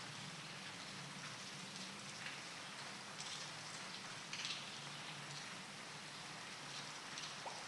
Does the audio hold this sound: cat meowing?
no